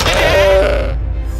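A Minecraft goat death cry merged with a door opening: one loud, close bleating tone that rises and holds, then fades quickly into quiet, heard alone.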